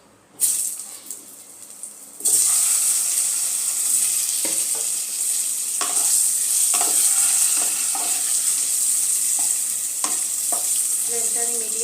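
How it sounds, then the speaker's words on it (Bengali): Potatoes fry in hot oil in a pan, a steady bright sizzle that starts after a brief quieter moment, broken by repeated scraping stirs of the spatula. "এবার আমি আলুগুলো ভেজে নেব।"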